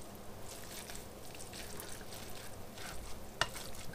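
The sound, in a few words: stirring coleslaw of cabbage, carrots and onion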